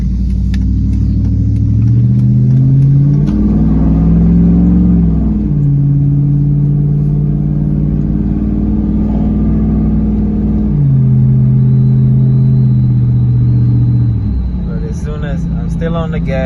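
Ram 1500 pickup with muffler and resonator deleted, heard from inside the cabin as the engine revs up and settles in several long swells, a steady loud rumble throughout, with brief talk near the end.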